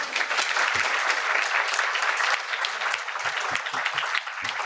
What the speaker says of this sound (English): I would like to invite you for a big round of applause for our panelists